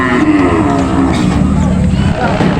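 Cattle at a livestock market let out a loud, sustained moo up close, with crowd noise and voices mixed in underneath.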